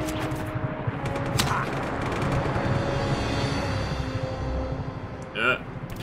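Gunfire in the Just Cause video game comes as bursts of shots and booms under steady game noise, while a player talks over it.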